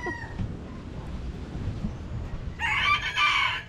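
A chicken gives a loud, harmonic crowing call close by in the last second, after a stretch of low, quiet room noise.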